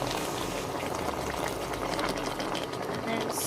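Half a cup of water poured into a chicken karahi, a steady broadband hiss and bubbling simmer filling the whole stretch at close range with no break.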